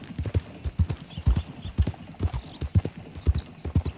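Horse hooves clip-clop at a steady walking rhythm in the open-world video game Red Dead Redemption, close and clear, with a brief neigh and no talking.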